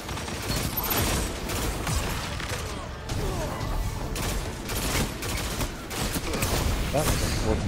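Rapid gunfire in the shooter game Red Death, dense overlapping bursts and cracks that keep going with brief gaps, loud and close, with a voice speaking over parts of it.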